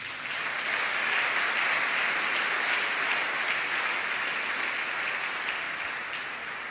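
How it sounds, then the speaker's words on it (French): A church congregation claps together in sustained, steady applause to acclaim the Lord during a pastor's sermon, a dense wash of hands that stays level and fills the room from start to finish. "Acclamons le Seigneur."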